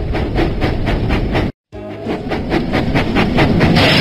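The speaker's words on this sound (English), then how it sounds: "Percy puffed proudly into the Sodor Search and Rescue Centre." Cartoon steam engine Percy puffs along in a Thomas & Friends video game, giving steady rhythmic chuffs over a rumbling, clacking rail sound, with one brief gap of silence.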